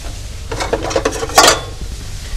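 Metal frying pan clattering onto a stove, a cluster of sharp knocks and scrapes followed by one louder ringing clank, close and alone.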